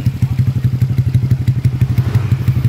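Old-model Honda Vario 150 scooter, bored up with a 59 mm piston and fitted with a round CLD Racing C3 exhaust, throbs loudly and close in a rapid, steady pulsing beat for a few seconds with no voices.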